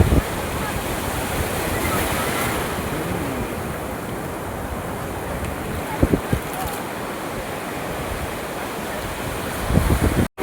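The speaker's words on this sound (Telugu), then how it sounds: "సముద్రం." Sea waves breaking on Bapatla beach, a continuous loud roar of surf with wind rushing over the microphone and a couple of brief louder bursts.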